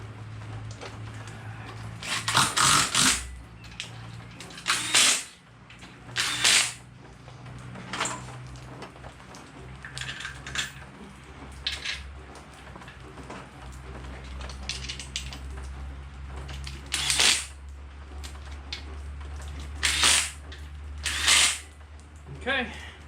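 A ratchet tightens the torque converter bolts on a Camaro, giving repeated close bursts of rapid clicking in uneven runs over a steady low hum, with occasional quiet talk.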